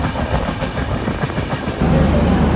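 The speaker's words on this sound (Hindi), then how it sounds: "कुछ देर बाद ट्रेन आ ही गई है ट्रेन, अब उसमें बैठ के जाऊँगा।" A train pulls into New Delhi railway station, its wheels rumbling and clattering steadily over the rails. The noise is loud and close throughout and grows heavier toward the end, with no talk over it.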